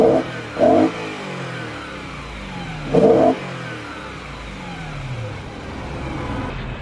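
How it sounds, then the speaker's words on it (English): A BMW M3 E92 engine blipped from the front of the car, with two short loud revs and a third a couple of seconds later. Each settles back to a steady idle hum. "so you heard it revving."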